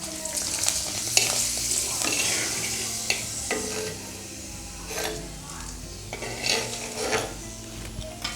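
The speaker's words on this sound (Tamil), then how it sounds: "இப்போ வந்து அப்பளத்தை பொறிச்சிக்கலாம்" Papad frying in hot oil, a steady sizzling crackle with intermittent scrapes and clinks of stirring in a pan, fairly close and moderately loud.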